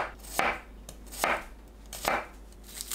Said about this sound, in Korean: 마늘은 편 썰어주세요.